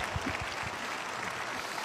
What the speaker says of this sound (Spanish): Si van a aplaudir, aplaudan todos